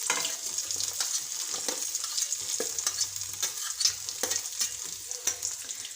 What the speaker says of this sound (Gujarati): તેલ ગરમ થઈ ગયું છે, સૌપ્રથમ આપણે આદું નાખશું।